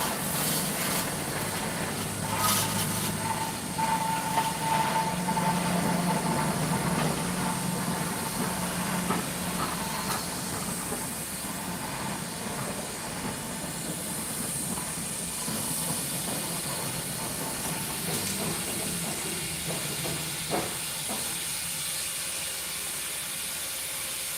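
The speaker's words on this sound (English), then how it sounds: "That is one loud, massive locomotive." A steam locomotive's loud, continuous hiss of steam roars with a low engine rumble beneath it, steady and close for the whole stretch.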